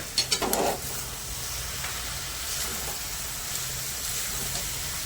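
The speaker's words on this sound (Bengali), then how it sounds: "এবার ভালো করে নেড়ে চেড়ে" Banana flower curry stirred in a frying pan after ghee goes in, with a steady close sizzle and a few scraping stirs at the start, no talk.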